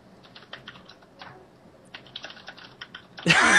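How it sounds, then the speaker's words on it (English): Quick clusters of keyboard typing tap away in a quiet room, pausing briefly midway, before a sudden loud burst of broadband noise cuts in at the end. "You can hear everybody typing."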